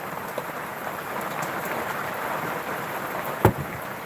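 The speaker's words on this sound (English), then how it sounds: "it's been pouring down with rain" Heavy rain pours down outside a garage, a steady hiss of drops on surfaces, with a single sharp knock near the end.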